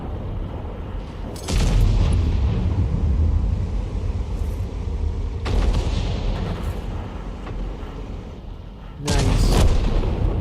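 An Object 261 self-propelled artillery piece fires in a tank video game: three heavy booms, each with a long rumbling tail, spaced a few seconds apart and loud against a low background drone.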